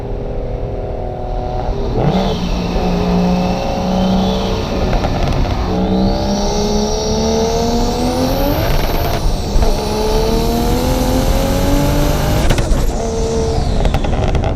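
A single turbo BMW 335i revs hard through a sustained pull, engine note climbing in rising sweeps with brief dips at each gear change, loud and close throughout with no talk.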